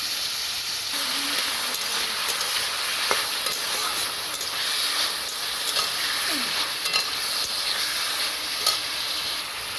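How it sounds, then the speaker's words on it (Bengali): Potatoes fry in oil in a wok, giving a steady, even hiss of sizzling with a few light scraping clicks scattered through, close and continuous without any voices. "এবার আলুটা ভেজে নিচ্ছি।"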